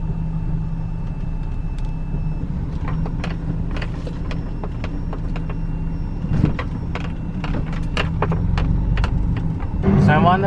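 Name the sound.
Toyota Tacoma truck driving with new 4.88 gears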